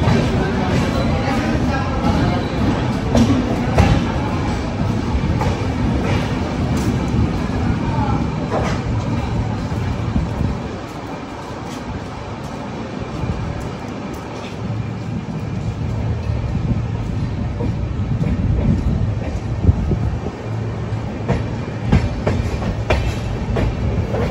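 A train departing a station in West Bengal rumbles steadily along the tracks with a rhythmic clickety-clack, heavy and continuous, a low roar that dips briefly before building again.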